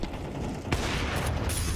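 A single sharp AWP sniper rifle shot in Counter-Strike at a pro esports match, a loud crack about midway through, set against a dense background of game noise and other gunfire.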